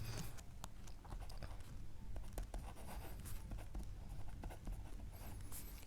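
A pen or marker writes on a board while a maths proportion problem is worked out, producing quiet, scratchy strokes and taps up close, with no talk over it.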